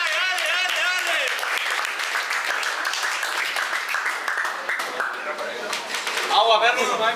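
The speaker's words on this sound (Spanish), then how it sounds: "¡Un aplauso para Dara!" A crowd at a Spanish-language rap battle claps and cheers loudly and continuously, dense applause with shouts and whoops throughout, a few voices calling out over the clapping.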